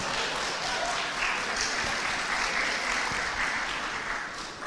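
Audience applause at an Indonesian public talk, a steady wash of many hands clapping that stays loud and even for the whole stretch before easing slightly at the very end.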